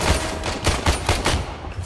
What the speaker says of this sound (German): Meine Schüsse da austeilen, sehr gut.